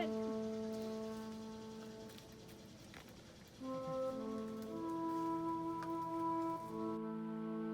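Rain begins to fall at a campsite in Moss Park, Central Florida, a soft continuous patter on surfaces heard throughout under a steady tonal background hum.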